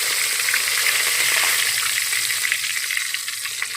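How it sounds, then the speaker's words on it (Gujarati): Mustard seeds and cumin sizzle in hot ghee, a bright close crackling hiss with small pops that holds steady and eases slightly toward the end. "આપણે ઘી ગરમ થઈ ગયું છે. રાઈ અને જીરું નાખવાનું છે, 1 ચમચી."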